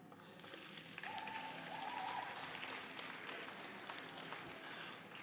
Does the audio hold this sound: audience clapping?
yes